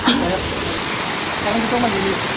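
Steady broadband rush of falling water from a waterfall, constant and fairly loud throughout, with faint voices mixed in.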